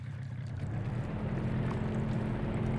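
Video-game motorboat engine and propeller, a steady low droning hum running continuously and fairly close, with washing water noise layered over it.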